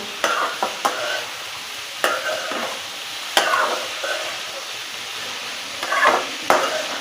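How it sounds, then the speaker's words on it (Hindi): Bitter gourd and onion fry in a pan while a spoon stirs them, giving a steady sizzle broken by sharp scraping and clinking strokes several times, close and clear with no talking. "ऐसे 3-4 दफ़ा इसको मैं चम्मच हिलाऊंगी, थोड़ा सा इनको फ्राई करके प्याज को भी साथ में"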